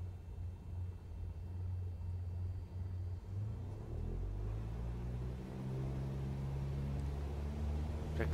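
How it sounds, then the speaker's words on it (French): An aircraft engine in Microsoft Flight Simulator 2020 accelerates for takeoff at LFMU, a steady low rumble that swells and rises in pitch as power increases, with no voices. "là, on entend un peu mieux le moteur de l'avion. Allez, j'accélère."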